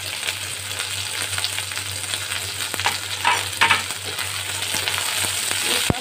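Eggplant stirred in a frying pan for a vegetarian bitter gourd chorchori: a loud, continuous oily sizzle with occasional spoon scrapes and clinks against the pan, and no talking.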